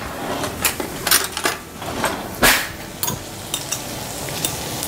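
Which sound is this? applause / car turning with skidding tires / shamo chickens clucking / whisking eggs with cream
whisking eggs with cream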